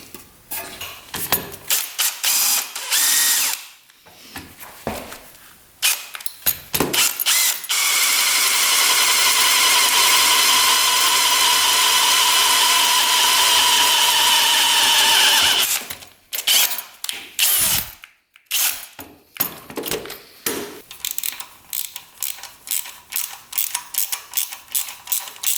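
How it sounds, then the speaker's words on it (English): A power drill bores a hole in a part on a cheap café-racer motorcycle, whining steadily for several seconds between shorter bursts and clicks of tool handling, close and fairly loud. "Now we just have to drill another hole right above it."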